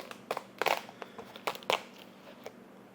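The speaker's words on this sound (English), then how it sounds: "Time for the peel." Excess foam being peeled off a machine-embroidered design, a series of close, quiet crinkling and crackling tears in irregular bursts.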